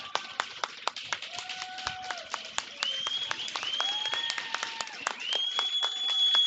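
Applause from a crowd at a boys' varsity hockey game as the goalie, James Potter, skates out of the net, with sharp, scattered claps that build and thicken toward the end while a commentator talks over it.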